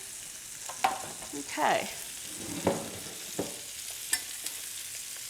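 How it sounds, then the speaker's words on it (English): Meatballs frying in a pan in a home kitchen give a soft, steady sizzle, broken by several scraping stirs and clinks of a utensil, with a brief word spoken nearby. "Hear that sizzle? Sounds good."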